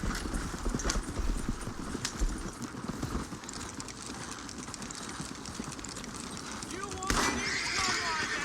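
Hooves clip-clop in the Red Dead Redemption Online video game as a horse trots in a steady quick rhythm, fairly faint under game ambience and someone talking.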